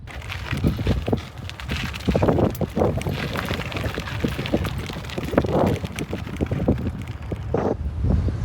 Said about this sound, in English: It's very windy, making this uphill climb really hard.